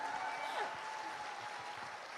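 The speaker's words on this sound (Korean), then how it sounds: "Berikan tepuk tangannya." Audience applause at a corporate Atomy business presentation in Jakarta, a steady wash of clapping from the crowd that stays even and moderate throughout, with faint talk and a tonal hum underneath.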